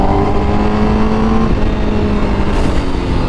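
A Honda Fireblade motorcycle revving through its exhaust, loud and close, with tonal engine harmonics that shift pitch midway before a brief louder burst near the end; no voices.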